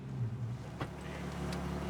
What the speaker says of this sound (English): I'm pretty sure that I have a misfire. That's what it sounds like and that's what it feels like.